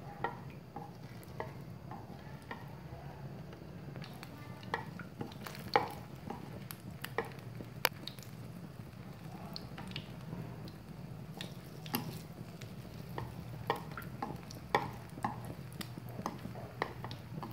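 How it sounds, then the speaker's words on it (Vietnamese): Vietnamese spring rolls (chả giò) fry in hot cooking oil over moderate heat, giving a steady close sizzle scattered with small pops and crackles throughout. No one speaks. "Mình chỉ cần chiên với lửa vừa phải thôi nhé."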